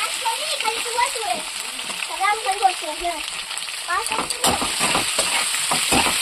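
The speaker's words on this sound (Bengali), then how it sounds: "আলু দিয়ে দিচ্ছি। আলুটা ভাজবো।" Potatoes fry in a pan with a constant sizzle, and a voice murmurs over it early on before louder stirring scrapes take over near the end.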